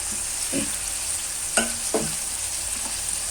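Tomatoes, turmeric and fenugreek seeds frying in a pan, a continuous close sizzle with a few scraping stirs of a spatula.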